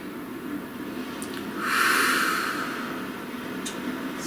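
A single deep breath, a slow inhale swelling to a soft airy peak and then easing out, close and quiet over a faint steady background hiss.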